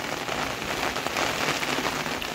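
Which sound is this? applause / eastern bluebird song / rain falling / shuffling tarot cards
rain falling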